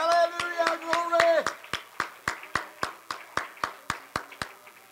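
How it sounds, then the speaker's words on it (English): A church congregation claps in praise during an evening service. A voice with sustained tones runs through the opening, then about a dozen loud, evenly spaced unison hand claps follow in a steady rhythm. "Can you give the Lord a hand clap of praise tonight?"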